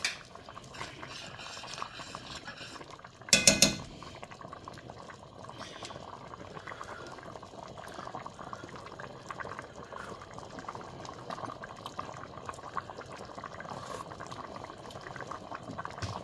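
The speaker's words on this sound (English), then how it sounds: "we're just gonna let this come up to a boil for now" A pot of turkey tetrazzini soup comes up to a boil, giving a low, steady bubbling simmer throughout, broken near the start by a brief loud clatter like a utensil knocking the pot.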